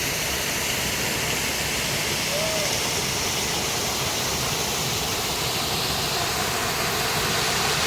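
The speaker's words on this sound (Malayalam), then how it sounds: "മുകളിൽ നമ്മുടെ വെള്ളച്ചാട്ടം കാണാൻ കഴിയും" Waterfall at Cheerattamala roars as a loud, dense, unbroken rush of falling water from start to end, with no voices over it.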